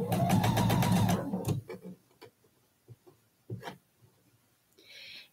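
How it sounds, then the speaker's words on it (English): Sewing machine stitching quilt triangles, a fast close whirring run of stitches for about a second and a half, followed by scattered soft clicks and handling noises. "if your sewing machine seems to be pushing the corner of your triangle into your bed of your machine"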